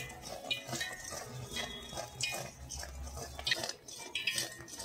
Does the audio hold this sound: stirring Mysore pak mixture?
yes